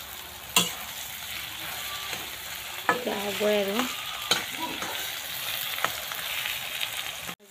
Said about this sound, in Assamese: এতিয়া অকণমান জুইত ভাজিছোঁ।